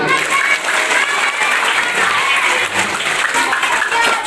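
Students in a school talk on drug dangers applaud together, a steady dense wash of clapping that holds level throughout without a break.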